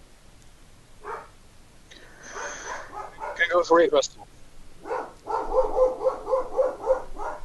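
A dog barks in a short excited burst partway through, with people talking before and after.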